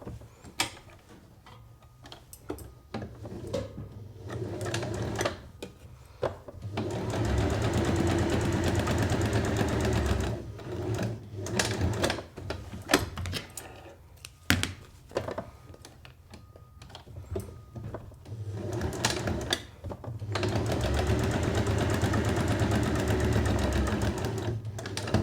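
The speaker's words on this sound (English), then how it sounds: "I'm going to simply sew from pin mark to pin mark in a diagonal." A sewing machine stitches fabric diagonally across the corners of a square for a petal drawstring bag, running in several sustained bursts separated by short pauses, fairly close, with no talk over it.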